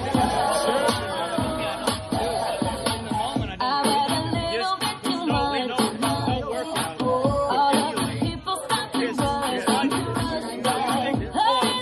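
A live crowd claps and cheers after a duel-style match held poolside, broadband applause filling the space steadily with scattered bursts and background chatter throughout.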